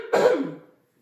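A single short cough with throat clearing, close and fairly loud in a dry indoor space, fading out quickly into silence.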